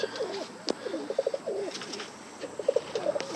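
Portuguese tumbler pigeons cooing in soft repeated bursts, moderately close, with a sharp click or tap and faint chirps in a quiet loft.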